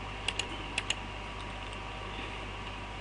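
Four quick, crisp clicks come from keys pressed on a computer keyboard, close by, over a steady background hum, and then the keys fall quiet.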